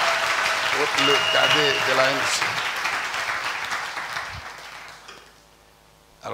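Church congregation claps together, broad applause rising under a voice and then slowly fading away.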